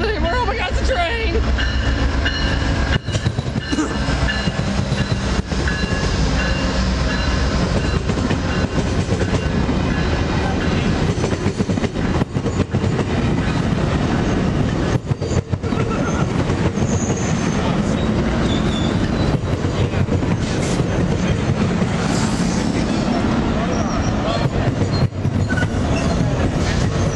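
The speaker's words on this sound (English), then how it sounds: "Oh my god, it's a train!" A train rumbles steadily past on the rails in Durand, Michigan, for the whole stretch, loud and close, with rhythmic clacking wheels and occasional metallic squeals.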